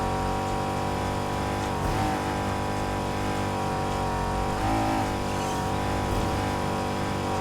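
A Honda NSX in the Need for Speed Heat video game drives on a continuous loud engine roar, with revs rising and dipping through shifts over a layered game soundscape, and no voices.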